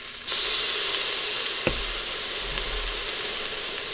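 Onion, garlic and ginger hit a hot pan for chicken tinola and set off a sudden loud sizzle that holds steady and bright, with one sharp utensil tap partway through.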